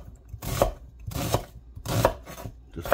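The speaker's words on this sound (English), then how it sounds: "Quick chop" Quick knife chopping on a cutting board, sounding as three short bursts of rapid, close, crisp blade taps separated by brief pauses, with no talking.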